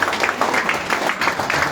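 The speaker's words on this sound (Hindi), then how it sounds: "तालियां बजती रहनी चाहिए" Applause from an event audience, a steady broadband clatter of hand claps with a few clustered bursts, moderately loud and close throughout the short stretch with no voices over it.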